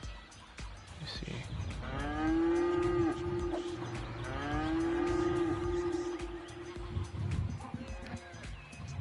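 Cows on a farm in the video game Cities: Skylines give two long, drawn-out moos in succession, fairly close, over a faint background murmur.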